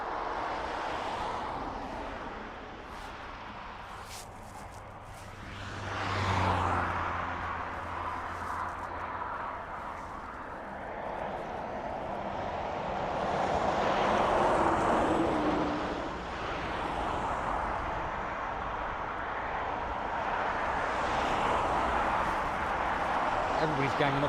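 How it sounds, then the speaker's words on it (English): Road traffic near Dublin Airport rumbles continuously as vehicles swell past, rising and falling in waves of low, broad noise, with a voice speaking faintly underneath. "I do apologise for the road noise"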